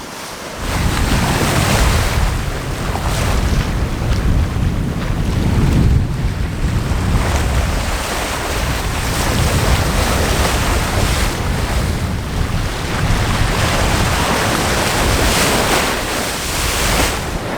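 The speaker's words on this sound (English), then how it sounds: "We are honking along, just flying downwind, surfing these waves." A sailboat running fast downwind on the open ocean, surfing the waves: loud, continuous rushing water and hull wash with heavy wind buffeting the microphone, swelling and easing as the boat rides each wave.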